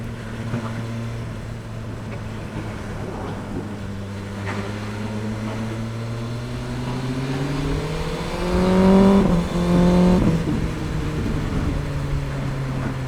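A BMW M1000R motorcycle engine pulls hard in fifth gear, its steady drone climbing smoothly in pitch to a louder peak before easing back, heard close and continuous with wind rush and no talk.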